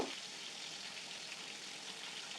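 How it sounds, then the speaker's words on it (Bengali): Rui fish fries in hot oil, seasoned with salt, turmeric and red chilli powder. A soft, even, continuous sizzle plays at moderate volume without voices. "তারপরে মাছটা তেলে ভেজে নিব।"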